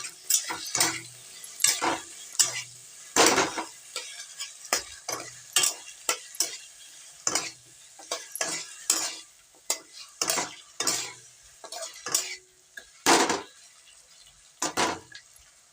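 Taro greens with salt and turmeric being stirred and mixed in a frying pan, a spatula scraping and clattering against the pan in quick irregular strokes over a faint sizzle, close and alone.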